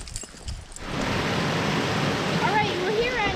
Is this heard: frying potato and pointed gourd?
no